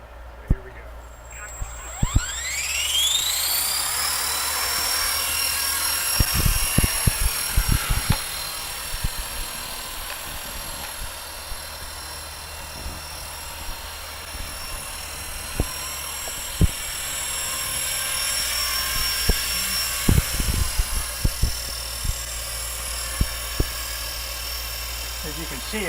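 Blade 230 S V2 RC helicopter spooling up and hovering nearby, a steady high-pitched rotor and motor whine with whistling harmonics over a low hum, holding throughout with a few brief knocks and wind bumps.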